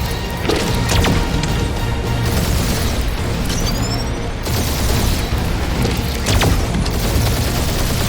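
The Milano spaceship takes fire from a barrage in Marvel's Guardians of the Galaxy game, a loud, dense, continuous roar of booms, impacts and crashing blasts with whooshing bursts layered throughout.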